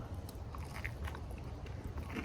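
Close chewing of blueberry pancakes topped with maple syrup, soft wet bites and faint crunches repeating steadily over a low background hum, no talking.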